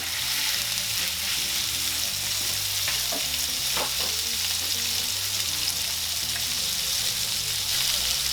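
Salmon fillets frying in a pan for garlic Tuscan salmon pasta, giving a steady, loud, close sizzle that holds evenly throughout with no talk.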